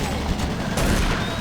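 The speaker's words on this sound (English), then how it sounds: "So, a bit of a demonstration of the auto turrets." Automated turret guns in the video game Doom 3 fire a brief, dense stream of rapid shots, loud and continuous from start to finish, with no voices over it.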